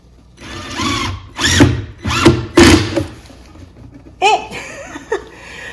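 A power drill drives a 41 mm screw in short bursts, speeding up and slowing down several times, followed by a few higher-pitched whines and brief voices.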